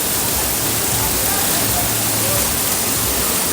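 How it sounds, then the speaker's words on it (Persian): A waterfall in a gorge near Yasuj pours down in a loud, continuous broadband roar that stays dense and steady throughout, with crowd murmur faintly buried beneath. "آبشار از این ور داره آب میریزه رو سر ما"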